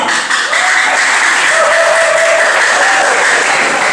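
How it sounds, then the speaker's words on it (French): Applause from an audience at an evening festive gathering, a steady loud wash of clapping with a faint voice or tone running under it. "On nous applaudit cela pour belle initiative ça"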